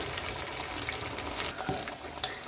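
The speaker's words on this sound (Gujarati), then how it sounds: "પણ આપણે ફાસ્ટ ગેસ પર જ તળી લઈએ એક બાજુ" Dense, continuous sizzle of bread cutlets frying in hot oil over high flame, close and steady with small pops throughout.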